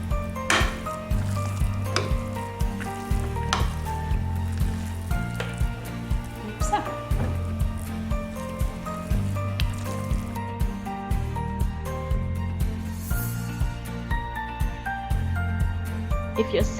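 A raw vegan carrot and hazelnut cake mixture is stirred in a bowl, soft squishy churning and scraping that repeats in steady strokes, close and moderately loud, with background music running throughout.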